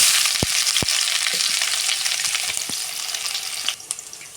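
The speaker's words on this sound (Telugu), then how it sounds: "ఇప్పుడు దీంట్లోకి ఒక చిన్న ఆనియన్ చిన్న పీసుల్లో కట్ చేసి వేసుకుంటున్నాము" Small pieces of chopped onion fry in hot oil, a strong close sizzle with a few sharp taps of a spoon against the pan early on, easing slightly toward the end.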